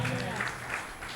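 At a Tamil Sunday church service, the congregation gives a brief burst of clapping that fades quickly, with the preacher's voice over and after it.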